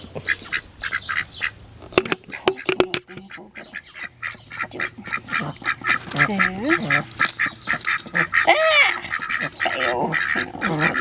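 Several ducks quack repeatedly at close range, with a few sharp knocks near the start and occasional bird chatter mixed in.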